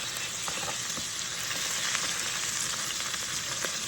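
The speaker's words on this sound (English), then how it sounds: "gonna do a quick flip and check out the sear" Beef short ribs sear in a hot pan for braising, giving a steady, close, dense sizzle with small crackles and spits throughout and no voices.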